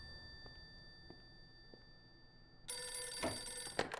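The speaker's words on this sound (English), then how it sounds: "it's the phone from the Matrix" Telephone in the video game Blues and Bullets suddenly ringing: a bright, loud electronic ring starting partway through after a quiet stretch with soft clicks, close and dominant, cut off near the end.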